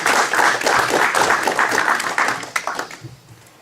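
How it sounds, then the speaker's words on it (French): An audience applauds veterans at a gathering on the BCRA and Free France, a dense burst of clapping that gradually thins and tapers off. "Je vous demande d'applaudir à nos grands anciens conseillers."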